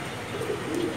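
A pair of pigeons kept for sale coo softly in a short, low burst, fairly quiet and close, with no talking.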